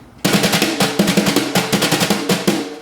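Brushes play a steady run of short, muffled dead strokes on a snare drum, each hit damped rather than left to ring.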